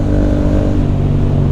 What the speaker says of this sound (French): on va finir de chauffer les pneus avant d'aller à un petit spot